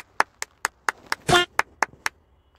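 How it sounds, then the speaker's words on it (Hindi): A single person claps their hands about eight times in a quick, fairly even rhythm, close and crisp with no other sound, and a short rustling burst falls midway through. "चलो तालियां बजाओ"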